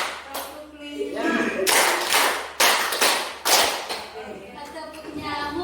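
A crowd of teachers and students claps together in a patterned sequence at a school gathering, with a brief voice at first, then three loud, separate bursts of synchronized clapping and talking again at the end.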